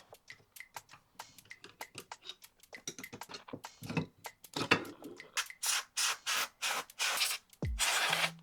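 Cleaning a white PC build's AIO liquid cooler, with quick close clicks and rubbing taps that give way to louder hissing bursts, like compressed air being sprayed at the radiator, near and fairly quiet.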